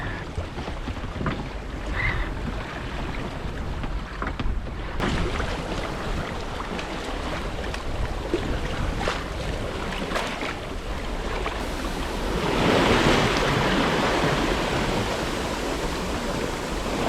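A sailboat with both sails up crosses the Kattegat at sunrise, giving a steady broadband rush of wind and water along the hull, with a louder surge of spray near the end and no voices.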